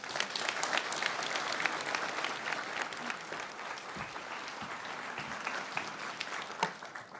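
Steady audience applause fills a hall for Prime Minister Jonas Gahr Støre at a Moon Prize ceremony honoring Arctic laureates, a dense, even patter of many hands clapping throughout with no voices over it.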